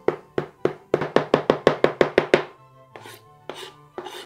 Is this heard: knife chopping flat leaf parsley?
yes